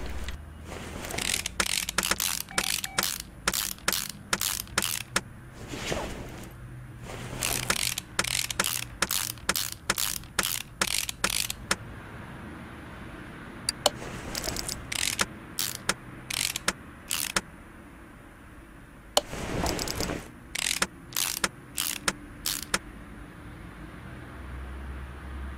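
Ratchet wrench rapidly cranking bolts off a car engine near the intake manifold in Car Mechanic Simulator 2018, repeated bursts of sharp clicking separated by short pauses, fairly close and clear with no talking.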